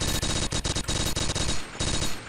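An MG42 machine gun in the video game Blockade 3D fires loud, close bursts of rapid automatic shots with short gaps between them.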